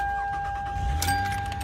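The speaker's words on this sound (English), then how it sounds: "Start the car." A car's engine turns over and catches during an automotive air-conditioning recharge, a short low rumble rising near the end amid a steady background tone.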